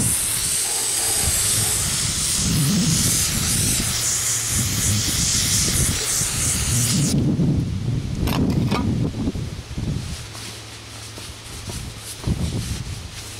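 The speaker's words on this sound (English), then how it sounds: "Spray this off real quick." Close, hissing spray washing down a Caterpillar generator set engine part during a teardown, a steady rushing jet for several seconds that then cuts off, leaving quieter clatter and handling noise.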